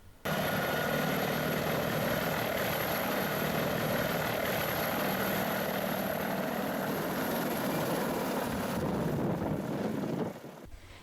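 A Denel Rooivalk attack helicopter's engine and rotors make a loud, steady roar with a high whine on top, sustained for about ten seconds before it cuts off abruptly.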